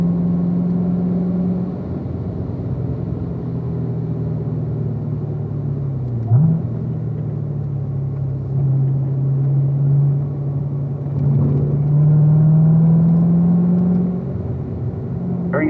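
A car on a race track holds a steady, loud engine drone close by, with a brief gear-change dip partway through and a slight rise in pitch as the throttle opens, no talk.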